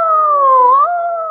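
A human voice imitating an animal's long howl, one sustained wavering wail that dips slightly in pitch and then steps back up, loud and close with nothing else around it.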